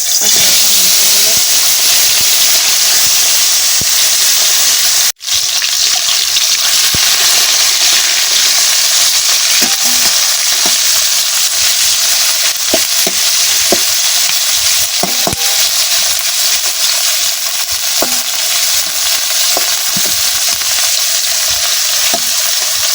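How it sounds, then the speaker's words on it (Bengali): Meat with turmeric and salt fries in hot mustard oil with a steady, loud sizzle and hiss throughout, broken by occasional stirring clinks and one brief dropout. "এখন খুব সুন্দরভাবে মাংসগুলো ভাজি করে নিলাম।"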